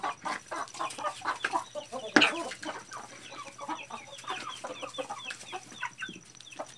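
Chickens cluck and chatter close by while pecking at murici fruit, a busy overlapping stream of short calls with one sharp louder squawk partway through.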